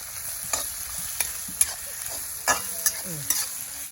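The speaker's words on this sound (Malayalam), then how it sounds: "നമ്മൾ ഇതിലേക്ക് ഉള്ളി ഇട്ട് കൊടുക്കുക ഇതും കൂടെ നല്ലോണം ഒന്നിലേക്ക് വഴറ്റി കിട്ടട്ടെ" Onions sauté in a pan under a faint, even frying hiss, with spaced spoon scrapes and taps against the pan every half second to second.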